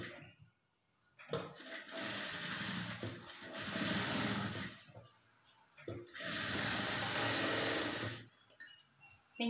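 Sewing machine stitching a lining blouse in two sustained runs of rapid whirring, close and fairly loud, separated by short pauses with handling noise and a faint voice between.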